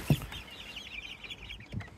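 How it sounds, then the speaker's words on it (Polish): Young chickens kept in a cramped pen on a small Polish farm cheep and cluck in a continuous high chatter, with a couple of low thumps near the start and end. "No i kurczaki."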